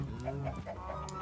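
Chicken clucking in Minecraft, a run of short rhythmic clucks and squawks at moderate loudness, fairly steady across the moment with no talk over it.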